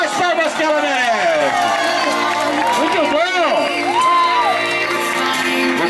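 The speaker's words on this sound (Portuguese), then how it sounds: "Pode bater mais palmas que ela merece!" Guests at a 90th birthday party cheer, whoop and clap loudly together, with shouting voices and a crowd din filling the room throughout, and sung or called-out tones rising over the noise.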